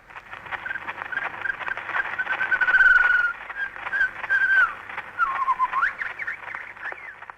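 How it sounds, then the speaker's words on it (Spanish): An old recording of a white-rumped shama, an Asian songbird, singing a varied whistled song of sliding, warbling phrases over a constant hiss of noise, with no voices. "grabó el canto de un sama culiblanco, un ave de Asia conocida por su riqueza melódica"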